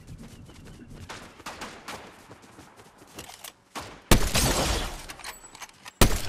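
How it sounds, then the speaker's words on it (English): Rapid bursts of gunfire in an online battle royale shooter game, with a heavy loud volley near the end and a final sharp burst, everything close and dominant. "somebody's getting sniped at."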